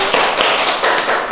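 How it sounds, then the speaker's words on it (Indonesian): A live audience claps at a radio talk show on cruise ship work: dense, steady applause, loud and close, filling the whole moment with no voice over it. "Oke, tepuk tangan lagi sekali."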